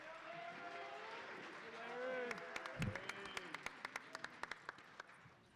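A winter concert audience claps in a school hall, with a voice and crowd murmur first, then a burst of sharp, evenly spaced handclaps rising over the talk and carrying through the end.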